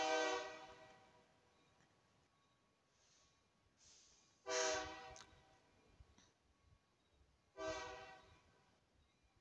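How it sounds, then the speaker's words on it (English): A train passing nearby sounds its horn in several long, loud blasts separated by quieter rumbling, heard outdoors at night with no talking. "Hello, train."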